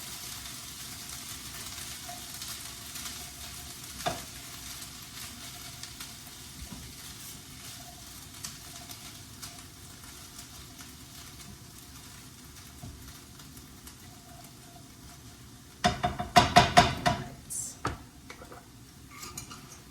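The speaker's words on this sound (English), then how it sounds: "we're gonna let it simmer on low." A quinoa and navy bean breakfast scramble with seasonings simmering on low in a pan, a soft continuous sizzle with faint ticking, then a brief burst of louder stirring and scraping against the pan near the end.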